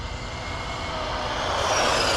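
A Traxxas Maxx Slash RC car driving, its electric motor whining and rising in pitch as it speeds up over steady rumbling road noise.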